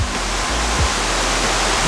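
Constant, loud roar of a waterfall at an outdoor filming location, a dense rushing wash with no pauses and no voices.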